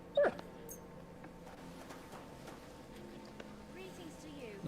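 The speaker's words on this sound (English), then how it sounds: "Gotta feed my dog." A pet dog in Kingdom Come: Deliverance II lets out one brief, faint whimper near the start, then only a low, steady game ambience continues.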